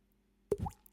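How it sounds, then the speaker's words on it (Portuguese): One water drop lands with a single close, distinct plop, followed by a short wet trickle in an otherwise quiet space. "Que é som de gotas de água, pingas"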